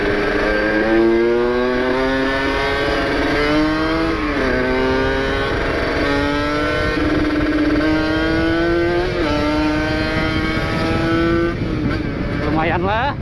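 A two-stroke motorcycle engine revs hard on a dirt track, rising and falling in pitch through repeated gear changes, loud and close throughout.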